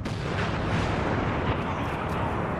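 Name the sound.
thermal detonator explosion in Star Wars Battlefront video game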